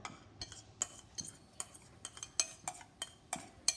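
A metal spoon stirs a nutmeg mixture in oil in a pan, making a quick, rhythmic run of about a dozen close scrapes and light clinks with no talking.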